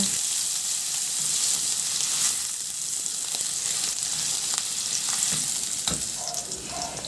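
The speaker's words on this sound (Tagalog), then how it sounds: "Magpainit muna ako ng mantika at igisa ko na rin yung bawang." Garlic sautéing in hot oil in a pan, a steady close hiss of frying lasting throughout with faint stirring scrapes and no talking.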